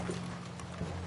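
Horse hooves clatter in a steady, muffled run as riders mount up in a video game, set against a constant low hum with no clear individual steps standing out.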